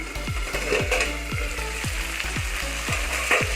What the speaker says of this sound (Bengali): পাঁচ মিনিট মতো আমি এইভাবে চাপা দিয়ে মশলাটা ভেজে নেবো যাতে আদার যে একটা কাঁচা গন্ধ সেটা চলে যায়